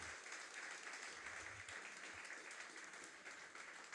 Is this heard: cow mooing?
no